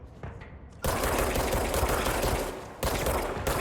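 Enemy gunfire in the shooter video game Control crackles in dense, continuous bursts that fill the clip loudly, with only a brief lull before the rapid shots resume.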